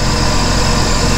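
A Sea-Doo personal watercraft engine with a failed intercooler and milky oil idles steadily while warming up, a close, constant low rumble with no talk.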